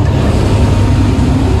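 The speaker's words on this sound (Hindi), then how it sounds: "आवाज़ कुछ आ नहीं रही होगी, इंजन की आवाज़ है बहुत ज़्यादा तेज।" Ferry engine on the crossing to Langkawi, a loud, steady low rumble with constant droning vibration filling the whole moment, no voices over it.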